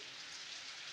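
Heavy rain falls in a steady, even hiss on a forest trip near a cave, with no breaks for the full second. The downpour sounds soft and somewhat distant, with no one talking.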